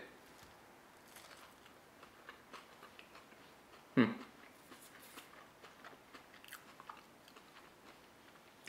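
A single crisp bite into an air-fried McDonald's-style breakfast hash brown lands mid-clip, followed by faint soft chewing against quiet room background.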